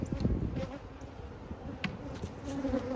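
Steady buzzing of honey bees around a hive, a soft continuous drone with faint background noise and no talk.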